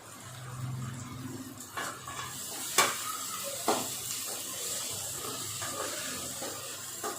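Onions and tomatoes sautéing over a high flame for fish curry, a soft sizzle broken by a few sharp clinks and scrapes of a spoon against the pan. No one is talking.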